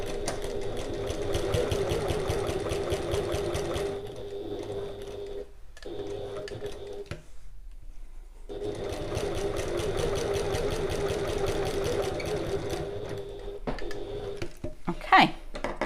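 A sewing machine stitches navy fabric in long, steady runs of fast mechanical whirring, broken by a couple of short stops, ending with a small click and a brief rustle.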